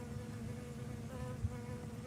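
A black and yellow bee with a very loud buzz drones continuously outdoors near water, a steady low hum with a brief louder swell near the end.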